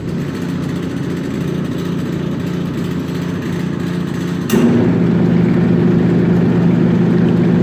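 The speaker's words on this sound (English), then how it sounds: "All right, so now we're gonna run the PTO. Cut the motor on." A motor in a gas damper demonstration rig runs the PTO, humming steadily and loudly, then a sharp click marks a change, after which the drone deepens into a denser, more even mechanical whir.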